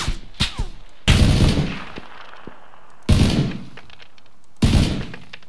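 Gunfire in PUBG (PlayerUnknown's Battlegrounds): a couple of quick sharp shots, then three loud reports spaced about two seconds apart, each with a booming decaying tail, with no voices.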